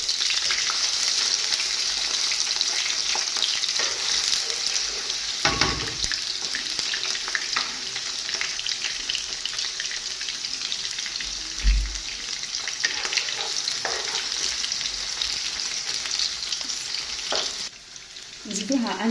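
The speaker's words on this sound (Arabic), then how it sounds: "بعد ما سخنت الزيت بالكدا باش نزيدوها البصل مقصوص خشين شويه" Coarsely chopped onion dropped into hot oil, a loud continuous close sizzle and crackle with occasional stirring scrapes and a few knocks, running without pause and no voices.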